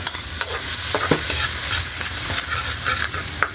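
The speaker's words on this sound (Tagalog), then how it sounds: "So, igisa na natin yung bawang" Garlic sautéing in a pan for bopis, a dense continuous sizzle and crackle with scattered stirring scrapes and taps, close and fairly loud, with no voices.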